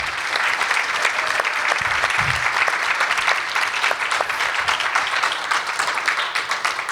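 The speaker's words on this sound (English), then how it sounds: "can we get one more round of applause for all of our pitching designers?" An audience claps loudly and continuously, a thick wash of many hands that stays strong before easing slightly near the end.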